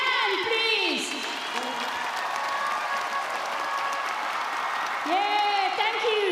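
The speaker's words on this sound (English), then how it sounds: "Merci aux danseurs de Tahiti, ils méritent tous vos applaudissements." Audience applause and cheering for Tahitian haka dancers at the Pacific Games closing ceremony, a dense steady clapping crowd with whistles throughout, under a loud announcer's voice over a PA.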